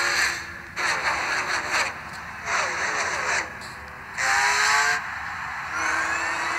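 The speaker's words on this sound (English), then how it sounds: "That car sounds like one from Asphalt 8." A race car engine in the Cars 3 trailer revs in short bursts of rising whine, separated by brief gaps, loud and up close, with voices speaking over parts of it.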